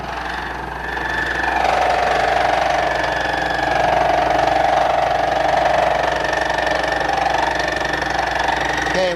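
A milling machine cutting at 660 RPM gives a steady, loud mechanical drone with a sustained whine, rising after the first second and holding evenly throughout, with no talking.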